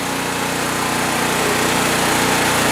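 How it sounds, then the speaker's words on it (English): A single-speed engine with two spark plugs runs steadily, loud and close, with a constant buzzing drone that holds at one speed throughout. "single speed engine"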